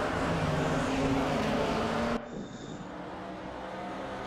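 Race cars in the Raceroom Racing Experience VR racing game roll into the pits, a loud broadband engine roar that drops abruptly midway to a quieter, steadier idle-like hum.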